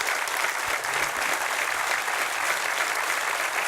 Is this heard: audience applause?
yes